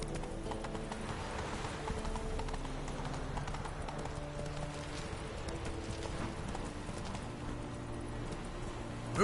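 Hooves of Roach, a horse in a video game, clip-clopping in a steady, even rhythm that lasts the whole stretch, with a dense bed of other game sound underneath.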